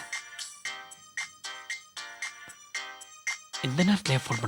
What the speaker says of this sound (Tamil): இந்த நேரத்துல ஏன் ஃபோன் பண்றாங்க?